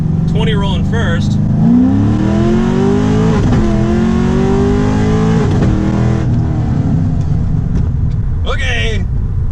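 A car fitted with drag radials and big power modifications accelerates hard from a 20 mph roll, its engine note climbing through gear shifts under a man's speech and constant cabin drone.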